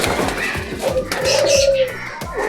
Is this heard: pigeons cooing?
yes